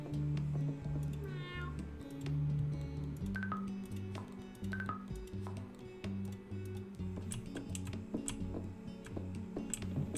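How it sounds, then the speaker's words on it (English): A ginger cat meows a few times, fairly faint under a steady ticking and a rhythmic low hum in the room. "I knew that was Kelsey, the ginger cat"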